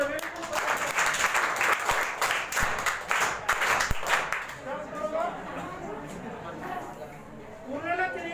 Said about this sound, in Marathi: आपण सर्वांनी मिळून 3 टाळ्या उचलावे.